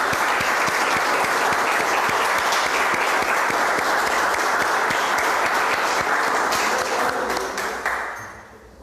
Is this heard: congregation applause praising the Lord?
yes